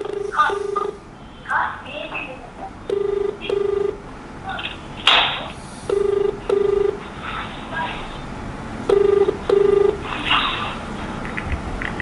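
A phone call rings through a mobile phone's speaker, paired double tones repeating three times at steady intervals, with a voice and room noise in between.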